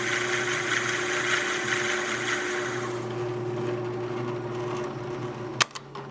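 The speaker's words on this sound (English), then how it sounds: "Make sure you're drilling at a slow speed when you're advancing the bit." A steady mechanical whir of a drill boring into cast Alumilite resin at slow speed runs for about three seconds, then fades to a low hum, broken by two sharp clicks.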